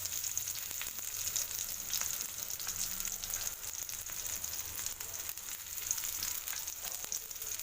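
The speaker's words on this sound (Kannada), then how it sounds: "ಈರುಳ್ಳಿ ಹಾಕೊಂಡು ಈರುಳ್ಳಿ ಫ್ರೈ ಮಾಡಬೇಕು" Chopped onions frying in hot oil on a tawa, giving a steady, close hiss of sizzling with faint scattered pops and stirring scrapes throughout, no voices.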